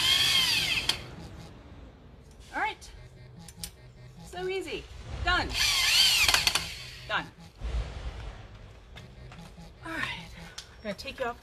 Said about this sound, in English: If you can just use an electric drill, it goes so fast.